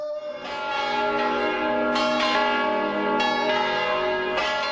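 Church bells peal loudly and close, with overlapping strikes every second or so that ring out in a sustained wash, and no voices.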